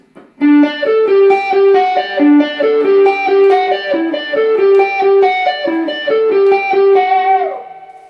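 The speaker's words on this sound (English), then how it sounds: "I'm going to add a little amp simulation, a little distortion" An electric guitar through Marshall-style amp simulation with distortion plays a fast, repeating melodic riff, loud and sustained, with no talking.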